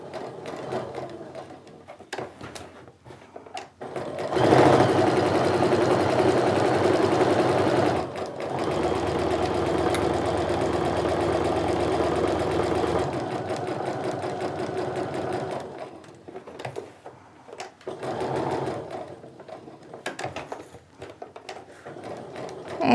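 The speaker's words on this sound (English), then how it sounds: "we're just gonna stitch all around the outside of that zipper that we drew" A sewing machine stitches around a zipper on a sling bag, running steadily for several seconds, then slowing and stopping for a turn before shorter bursts of stitching resume.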